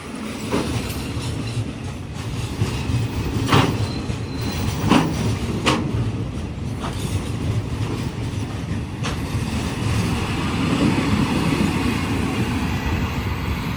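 A train rumbles along the rails with a continuous wagon clatter and occasional sharp metallic squeals from the wheels, heard close by with steady loudness throughout.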